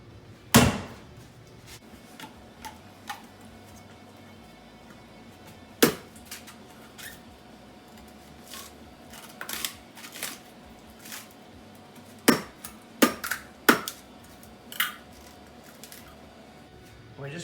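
A coconut being chopped open in a home kitchen: a handful of sharp, hard knocks spaced irregularly, one early, one near the middle and a quick cluster of blows toward the end, over a quiet room.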